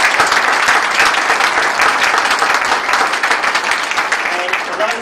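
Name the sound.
audience applause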